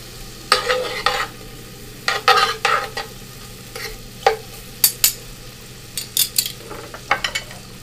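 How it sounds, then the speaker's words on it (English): Garlic, herbs and onions sizzling in a restaurant pan while being stirred, a soft constant sizzle under repeated scraping strokes and clinks of a utensil, close by with no talk. "You spread the flavor in the pan with the garlic,"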